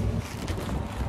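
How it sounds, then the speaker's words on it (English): Strong outdoor wind buffets the microphone in a steady, loud broadband roar that lasts the whole second, with no talking. "It's really windy"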